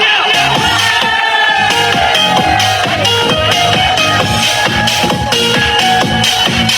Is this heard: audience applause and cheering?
yes